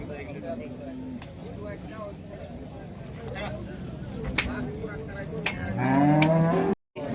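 Cows, including HF (Holstein Friesian) cattle, moo at the busy Modnimb cattle market, with a loud lowing call near the end over background crowd chatter and bustle.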